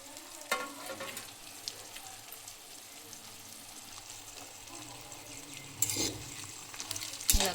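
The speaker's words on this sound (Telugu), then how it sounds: "ఫ్రై చేసుకున్నటువంటి గుడ్డుని ఇందులో వేసుకొని ఫ్రై చేసుకోవాలి." Already-fried egg pieces being fried again and stirred in a pan, a close steady sizzle broken by several louder scraping stirs and clatters.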